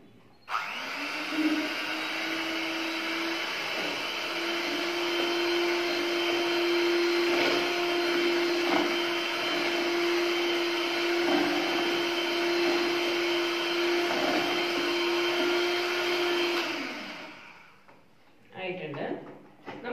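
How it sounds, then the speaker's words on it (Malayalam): An electric mixer beats sugar, eggs and vanilla essence into dorayaki batter with a loud, steady motor whine that runs continuously for most of the stretch, then cuts off, followed by faint handling sounds. "ഇനി അത് നന്നായി ഒന്ന് ബീറ്റ് ചെയ്തെടുക്കണം."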